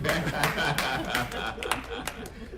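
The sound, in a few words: audience clapping at a media briefing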